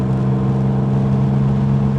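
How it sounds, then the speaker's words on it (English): A 1951 Chevrolet Bel Air restomod with a 261 engine accelerates uphill, its steady loud mid-pitched drone and hum filling the cabin without pause. "and I'm going to accelerate up that hill."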